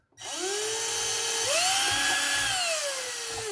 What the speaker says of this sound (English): Make sure it is an M3 drill bit that you have installed, since it's an M3 screw.